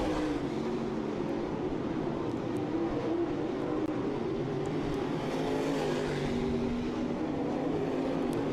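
Race cars at Southern Ontario Motor Speedway roar continuously around the track, a dense, steady wall of engine drone from several cars at once with no break.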